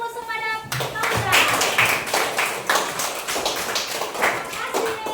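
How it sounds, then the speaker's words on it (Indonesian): Schoolchildren in a classroom perform a rhythmic spirit clap, sharp patterned bursts of many hands clapping together in quick sequences with short pauses, loud and close, after a brief voice at the start. "Berikan tepuk semangat Paula."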